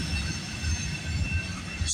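CPKC 231, a freight train loaded with lumber on the Galt Sub at Guelph Line, rumbles past at night with a steady low roar of railcars and faint wheel squeal.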